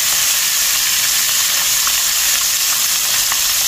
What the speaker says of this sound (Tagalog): prito na natin to